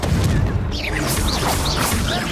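Confringo fire spell blasts in the Hogwarts Legacy video game: loud, dense booming bursts and whooshing streaks that run continuously under a shouting voice.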